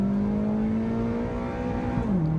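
A car accelerates through busy traffic, its engine tone holding steady and then dropping near the end, close and continuous with no talking.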